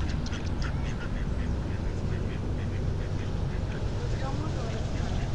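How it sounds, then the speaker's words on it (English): Ducks quack repeatedly in a busy chorus at Ellis Lake over steady background rumble, with people talking faintly nearby. "Look at those ducks."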